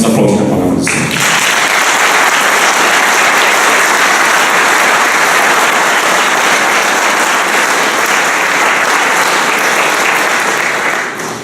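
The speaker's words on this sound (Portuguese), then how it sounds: "Vamos aplaudir a palavra do Senhor." Loud, sustained applause from a church congregation at a youth worship week, dense clapping and crowd noise that starts abruptly and holds strongly for over ten seconds before easing slightly at the end.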